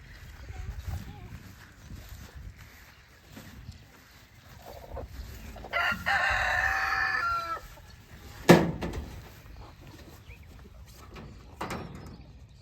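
A rooster, an Australorp, crows once in the middle, a bright sustained call over farmyard background noise and some talking, followed by a sharp knock.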